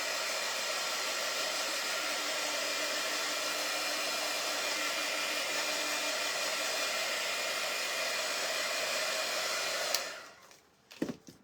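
A hair dryer blows steadily and loudly to dry a handmade Christmas countdown craft box, a continuous airy roar that cuts off near the end, followed by a few brief handling knocks.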